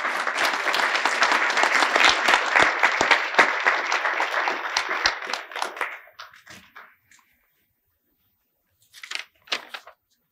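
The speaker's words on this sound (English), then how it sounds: "Let's give her another round of applause, please." An audience at an American Indian writers award ceremony gives a round of applause, dense, steady clapping for about six seconds that thins out and stops, followed by a brief scattered burst of a few claps.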